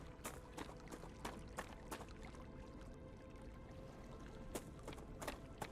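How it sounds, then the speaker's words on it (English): Water in the StarRupture video game trickles and splashes softly and continuously, with faint irregular clicks and taps over a low background hum. "Maybe it was just the water here."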